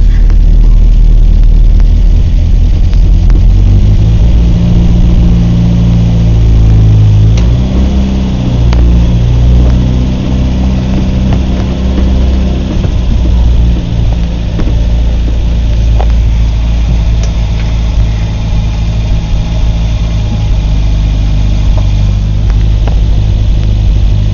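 Series II Land Rover engine running as it pulls away in first gear, low ratio, along a driveway; a steady, loud low rumble throughout with slight rises in pitch, no talk.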